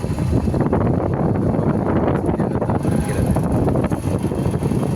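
Cold wind blows hard on the Vayalur road near Karur before rain, a steady loud rushing roar buffeting the microphone.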